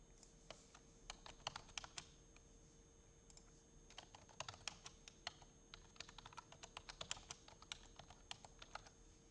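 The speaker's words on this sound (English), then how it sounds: "we need to type in the following command" A command being typed into a terminal on a computer keyboard: rapid, quiet key clicks in irregular runs and clusters across the stretch, close and dry over a faint steady hum, with no voices.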